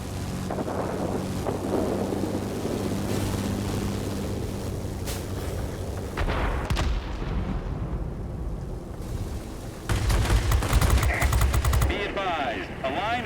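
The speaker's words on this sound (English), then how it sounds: "Thunderstorms is approaching." A thunderstorm rolls through the game World of Warplanes, with a constant roar of rain and deep rumbling thunder, swelling into louder cracks near the end of the stretch.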